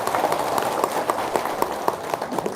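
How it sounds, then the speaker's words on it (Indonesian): An audience at a religious talk claps, with sharp, irregular individual claps standing out over a low murmur of crowd noise at a moderate distance. "Tepuk tangan dong."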